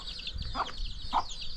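Free-range desi hens with reversed (frizzle) feathers, kept for breeding on a small farm, cluck in a couple of short mid-pitched calls over steady outdoor background noise.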